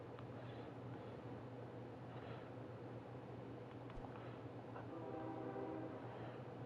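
A train rolls past with a steady rumble while its horn sounds in long sustained blasts, fairly loud and continuous throughout, no talking.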